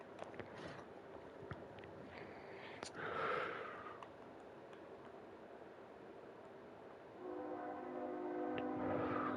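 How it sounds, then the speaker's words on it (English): A freight train passes near a train yard, its rumble steady and moderately distant, with a horn-like tonal blare rising toward the end. "you'll often hear my very special guest, the freight train that drives by every 30 minutes"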